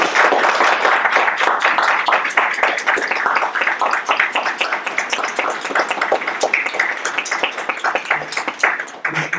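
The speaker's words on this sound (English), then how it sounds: "huge round of applause for all three of us." Loud, close applause from a debate audience, dense rapid clapping that continues for nearly ten seconds and thins slightly toward the end.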